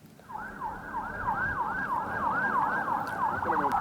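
An ambulance siren in Nabatiyeh, southern Lebanon, wails in a fast, steady rising-and-falling cycle, loud and close over low traffic rumble.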